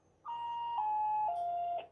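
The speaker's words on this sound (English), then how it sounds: "Then I hear that step down tone." A Bosch Solution alarm system plays its phone-call acknowledgement tone, three clear beeps each a little lower in pitch than the one before, played in quick succession and heard alone against faint line hiss.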